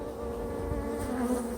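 A swarm of bees buzzes in a steady, droning hum close by, holding a constant pitch with no voices.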